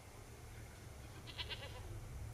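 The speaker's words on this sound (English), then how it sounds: "But that's a goat." A goat bleats briefly in a film scene from The Wolverine, a faint short cry rising out of a steady low background hum, with no speech over it.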